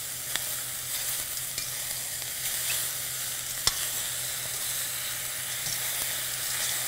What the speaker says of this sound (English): stir fry is when you are cooking vegetables in very little oil and at a high heat